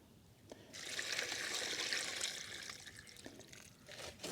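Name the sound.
water being poured to fill a garden pond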